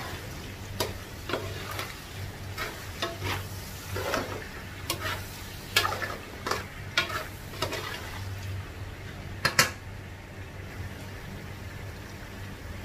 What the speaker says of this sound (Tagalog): lagay na natin yung toyo. Halo lang.